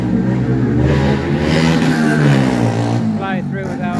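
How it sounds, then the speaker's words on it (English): A motorbike engine revs loudly and close by on a road near Karon Beach in Phuket, Thailand, a steady mid-pitched drone rising and easing over several seconds with no gaps. "You got the revving the motorbike kind of guys."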